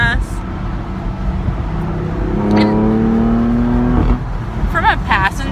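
BMW M4 Convertible driving on a clear road back toward a dealership, its engine a steady low hum with a brief rising note midway, heard from inside the car under light road noise.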